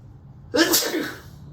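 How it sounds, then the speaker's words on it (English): A single sharp sneeze bursts out close by, preceded by a brief quiet intake, then fades into near silence. "I'm just gonna sneeze all over this door"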